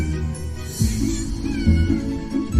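A cat meows loudly and close in drawn-out, wavering cries, continuous across the moment with little else around it.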